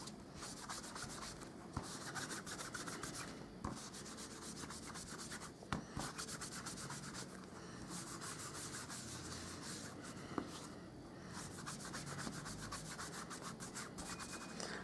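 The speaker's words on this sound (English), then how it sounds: "grab my embossing buddy, and I'm going to put that right over the top of my ink blended background" An embossing buddy is rubbed over ink-blended card stock, giving a steady, faint, continuous scrubbing rub with a few small taps along the way.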